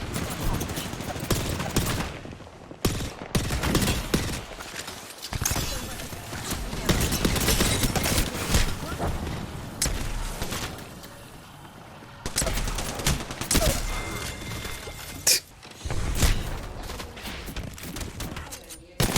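Video game gunfire rattles in rapid bursts and sustained automatic volleys, loud and close, broken by brief pauses, with players talking over it.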